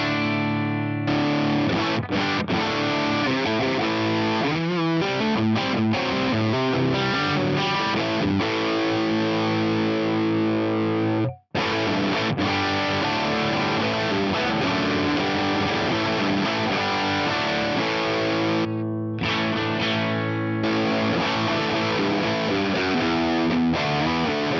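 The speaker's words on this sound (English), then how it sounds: "something like the Box O Crunch can work really great. It's basically a Marshall style distortion in a pedal" Electric guitar played through a Box O Crunch pedal, a Marshall-style distortion, into a Fender amp, giving a loud, thick crunchy overdriven tone with strummed chords and riffs, one brief silent break partway through.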